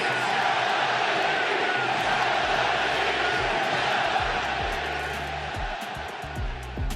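A large stadium crowd at the Oakland Coliseum roars continuously, with a deep rolling swell of cheering and chanting voices holding loud throughout.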